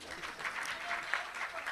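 Audience at a Tamil film event breaking into applause, a dense steady patter of many hands clapping at moderate volume for a short burst.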